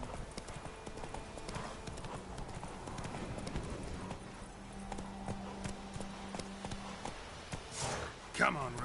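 Galloping horse hooves clip-clop quickly in a video game, mid-loud beneath music and game ambience, with a voice speaking near the end.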